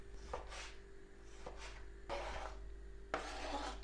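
A knife finely chopping half a tomato on a wooden board while preparing pea soup with smoked ribs, giving soft rasping strokes in a few close bursts with a steady hum underneath.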